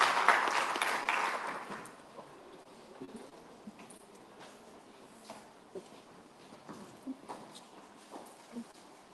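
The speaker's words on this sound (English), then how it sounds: "Let's give her a round of applause." Applause at a school business event swells briefly at the start then thins into scattered, sparse claps and soft thumps in a room.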